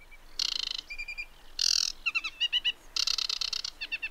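Aquatic warbler singing in reed habitat: loud, close bursts of buzzy chatter alternating with rapid trilled and repeated whistled notes, several phrases in quick succession against a quiet background.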